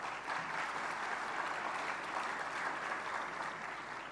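Sustained applause from a debate audience at a national college debate final in Malaysia, a dense steady wash of clapping that holds loud and even throughout.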